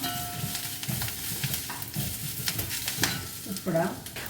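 Moringa leaf thoran being stirred as it fries in a pan, with turmeric powder just added: a steady close sizzle with repeated scraping strokes of the spoon in an even rhythm, and no speech over it.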